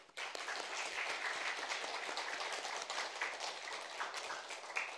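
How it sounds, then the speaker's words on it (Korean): Congregation clapping together at a Christmas thanksgiving church service, a steady dense round of applause sustained for several seconds, moderately distant and without speech. "모두를 위해서 박수 한번 하겠습니다"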